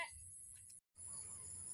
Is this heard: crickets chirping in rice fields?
yes